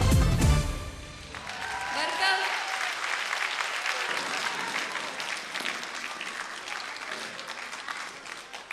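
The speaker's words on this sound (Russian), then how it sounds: "Аплодисменты Маке Салтымурадовой." Concert audience applause at a dance ensemble's annual recital, rising after a loud burst of music at the start and continuing as a dense, sustained clapping wash that slowly tapers.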